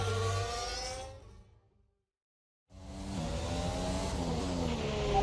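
Race car engine in the F1 2021 video game, a loud high-revving whine that cuts out briefly to silence, then returns and builds again.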